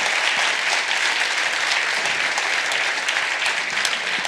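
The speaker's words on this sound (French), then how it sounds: "On va commencer par applaudir Marco Owen." Audience applause during a debate vote by applause meter, a dense, steady wash of many hands clapping, loud and close, with no talk over it.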